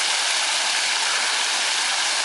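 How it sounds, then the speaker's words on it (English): Water from the reception fountain at the Alton Towers hotel splashes and rushes in a loud, dense, continuous hiss, close by and unbroken, with no voices. "The fountain for the reception"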